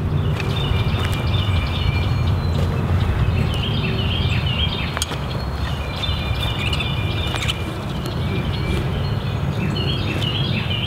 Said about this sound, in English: you can really hear the birds chirping